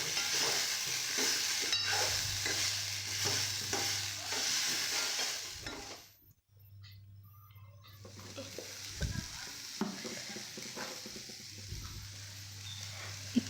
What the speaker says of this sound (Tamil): நல்லா வதக்கி விட்டுடலாம்.